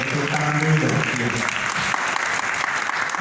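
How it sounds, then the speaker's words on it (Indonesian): Audience applause at a talk on physical culture, a dense steady patter of clapping lasting a few seconds, loud and close, with some low voice or hum near the start. "Tepuk tangan dulu dong."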